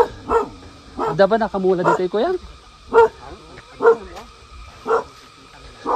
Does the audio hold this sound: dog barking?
yes